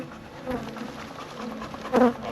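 Honey bees buzz at an opened hive holding two full boxes of bees, a soft, close swarm hum with a slightly louder swell near the end.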